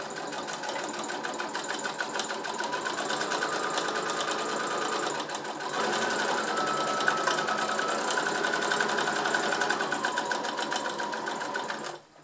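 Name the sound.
sewing machine stitching fabric for a glasses case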